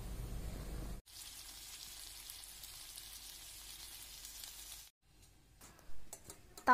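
Onion and chilli fritters sizzle in hot oil in a wok, a loud steady hiss lasting several seconds before stopping abruptly, followed by a few brief clatters.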